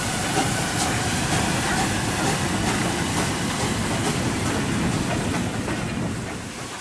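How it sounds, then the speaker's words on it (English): A long coal train hauled by an 8F steam locomotive running backwards, bound for Liverpool, rolls past at Edgeley, Stockport, with a steady loud rumble and rhythmic wagon clatter that fades slightly at the end. "a long coal train set out for Liverpool, hauled by an 8F running backwards"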